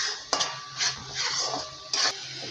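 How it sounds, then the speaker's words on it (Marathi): A spoon scrapes and clanks against a pan while chicken curry masala is stirred, with a few sharp metallic knocks over a low sizzle. "बघा एकदा परत छानपैकी असं हलवून घ्या"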